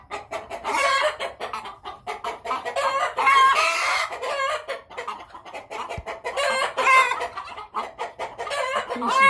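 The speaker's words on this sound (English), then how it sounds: "let the turkeys out and let the chickens out and keep the ducks in" Farm chickens cluck and squawk close by in a busy, continuous chorus, with a rooster-like crow rising in the middle and overlapping calls throughout.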